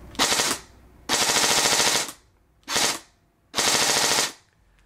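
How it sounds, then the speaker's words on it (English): Airsoft gun fitted with a Burst Wizard King Kong Mosfet firing: rapid mechanical bursts of shots, two short and two longer strings, close and crisp with brief pauses between. "it'll do 3-round bursts, and then after that it'll resume full auto"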